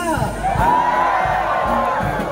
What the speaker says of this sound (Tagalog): sumigaw tayo para sa kanila